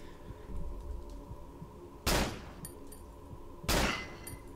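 Two sharp, loud gunshots in the horror game Cry of Fear, spaced about a second and a half apart over a quiet, hum-laden game background.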